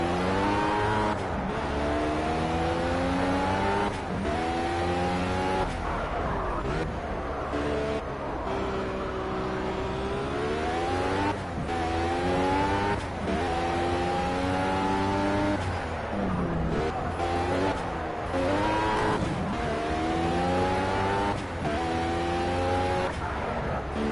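A race car engine in the racing game Project CARS revs up and down through repeated gear shifts, rising and falling pitch sweeps with brief tire noise, loud and continuous for about twenty-four seconds.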